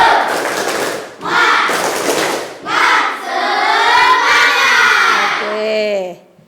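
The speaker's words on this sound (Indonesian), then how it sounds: "Coba sekarang tepuk semangat." A school class does the tepuk semangat ice breaker: bursts of rhythmic group clapping alternate with loud chanted and shouted calls from many young voices, close and energetic, ending in a short held cry.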